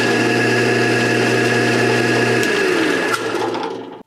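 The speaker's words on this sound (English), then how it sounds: "if your tool is quiet enough, you can hear the characteristic clicking sound that it makes." An electric drill press motor hums steadily for a few seconds, then is switched off and winds down. A couple of sharp clicks from its centrifugal switch sound as it slows, in a quiet workshop.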